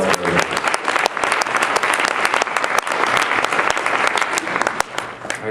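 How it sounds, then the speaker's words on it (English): Sustained applause from a conference audience at a winter agricultural conference keynote, dense clapping at full strength throughout with a few sharper claps standing out. "So a big round of applause for everyone."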